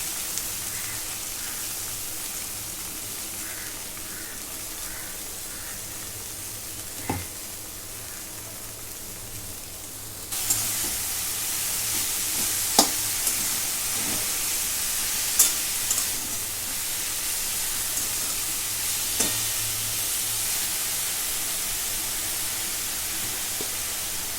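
Chopped dill leaves dropped into a pan with browned garlic frying in oil, a soft hiss that jumps to a steady, fairly loud sizzle partway through, with a few clicks of a utensil and no talking.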